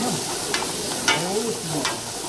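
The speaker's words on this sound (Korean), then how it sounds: "일단 마늘 양파에 다진 걸 먼저 볶습니다." Minced garlic and onion sizzle in a hot pan while being stir-fried, a close, steady hiss broken by a few scraping strokes of a utensil, with faint voice tones underneath.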